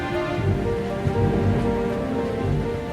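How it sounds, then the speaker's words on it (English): Steady heavy rain pours onto surfaces during a thunderstorm, with low rumbling thunder mixed in, continuous and close throughout with no voices. "Lightning was striking and the sound of the thunder was echoing in the castle."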